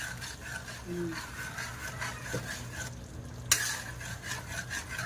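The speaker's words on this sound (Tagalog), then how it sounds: "hintay lang natin maluto yung spaghetti sauce" Spaghetti sauce cooks in a pan with a faint, continuous sizzle, broken by a few soft stirring scrapes and one brief sharp clink of a utensil.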